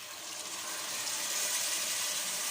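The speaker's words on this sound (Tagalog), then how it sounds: "Dagdagan daw ng konting tubig." Water pours into a pan of sautéed pinapaitan, the Ilocano bitter stew, making a steady, continuous rushing gush that holds evenly throughout, moderately soft and close with no talking.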